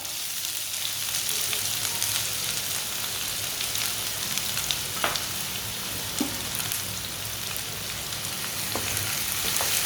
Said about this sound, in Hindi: एक बारीक कटा हुआ प्याज डालेंगे।